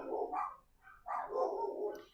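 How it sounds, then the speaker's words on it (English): Dogs bark indoors in a house, a few short, close barks and yelps in two bursts, fairly quiet with no talking. "My dog was in here scratching herself and thumping the ground with her foot, and that's what the other ones are barking at."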